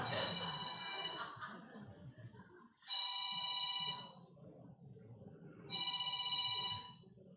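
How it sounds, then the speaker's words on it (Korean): A telephone rings three times in a steady pattern, with bright, harmonic ring bursts about three seconds apart. The first ring sits over a preacher's voice during a Sunday church sermon, and the two later rings are heard more clearly. "동의한다고 전화 온 거예요, 지금."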